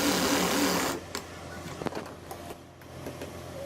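A sewing machine runs in a fast, loud stitching burst along the front button placket of a men's kameez, then stops, leaving soft clicks and handling noises.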